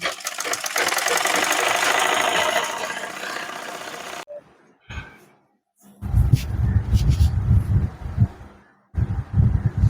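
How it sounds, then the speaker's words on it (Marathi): A sewing machine stitches along the folded hem of a petticoat, a steady whirring run for several seconds, then pauses and restarts in shorter bursts, close and fairly loud. "अशा पद्धतीने खालचा जो दुमडलेला आहे ते व्यवस्थित घ्यायचं आणि पूर्ण शिलाई मारून घ्यायची"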